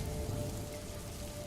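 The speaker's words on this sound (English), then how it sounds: "a soft patter of rain began, gentle at first, then falling like shimmering beads from an unseen" Soft rain pattering steadily on a surface, a continuous gentle hiss of drops with no thunder, even and close throughout.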